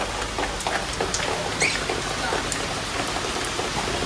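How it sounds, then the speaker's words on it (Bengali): Heavy rain with gusty wind pours steadily, with scattered drops pattering on a nearby surface and a faint bird chirp briefly in the background. "ভালোই বৃষ্টি হচ্ছে"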